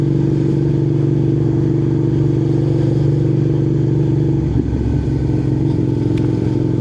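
Motorcycle engine droning loud and steady from the rider's position while filtering through slow traffic on a rainy ride from Newcastle to St Mary's Loch, with a brief rumble midway.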